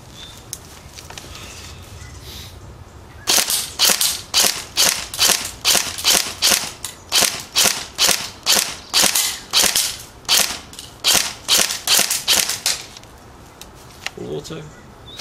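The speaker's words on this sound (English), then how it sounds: "So we'll be running them at the target, a bit of semi auto fire, but full auto." An airsoft gun fires 0.2 gram BioBalls BBs at a target in a rapid string of about twenty sharp, evenly spaced snaps, loud and close, with quiet ambient sound before and after.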